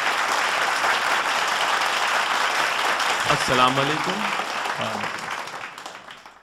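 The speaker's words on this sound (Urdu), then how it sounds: "آپ ایک بار ان کا تالیاں بجا کر سواگت کریں" Sustained crowd applause fills a mushaira hall in Dubai as a poet is welcomed; a man's greeting rises briefly over the clapping, which then thins and fades toward the end.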